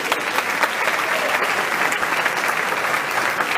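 Dense, sustained applause from a crowd at an amateur boxing event, steady clapping throughout with no pause, fairly loud and close.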